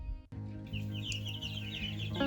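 A young broody hen named Pearl, under a year old, clucks in soft repeated low calls close by, with faint chirping layered above and no talk.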